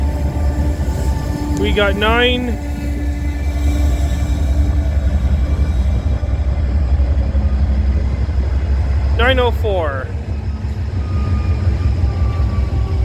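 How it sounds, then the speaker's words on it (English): A VIA Rail passenger train, number 68 led by locomotive 904, rumbles steadily past at night, loud and continuous throughout, with two brief bursts of a higher whining tone and a person speaking briefly over it. "Symbol on that train is VIA 68"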